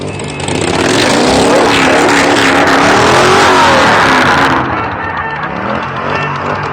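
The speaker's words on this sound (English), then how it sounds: "We got some Harleys up here and some Detroit. Actually, let's jump up here real quick. Oh, they're revving up." Harley-Davidson motorcycles rev their engines up close at a Motor City Pride parade, a loud sustained roar that swells and then drops back to a steady idle rumble.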